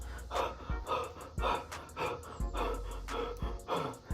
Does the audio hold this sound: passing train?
no